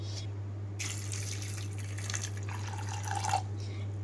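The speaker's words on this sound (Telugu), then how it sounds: "వీటిలోకి కొంచెం మునిగే వరకు నీళ్లు పోస్తున్నాను" Water poured into a bowl of soaked cowpeas for chaat, heard as a few short splashing and trickling bursts close by over a steady low hum.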